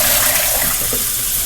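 A kitchen tap running full, a loud steady rush of water splashing into a sink, close and continuous with no talk over it.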